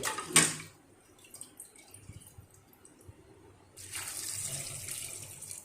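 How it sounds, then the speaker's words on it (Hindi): Water poured into a cooking pot for chickpea curry (cholay), a short splash at the start, then a quiet gap and a steady running stream toward the end. "ये इससे नाप के मैंने पानी डाला है"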